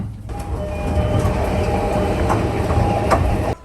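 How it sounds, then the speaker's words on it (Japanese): A JR train pulling out of Higashi-Hanno station, a steady loud rumble of railcar wheels with rhythmic clickety-clack over rail joints and faint high squeal, recorded from on board, no talk. "対向列車との行き違いはなく、東飯能駅を発車。"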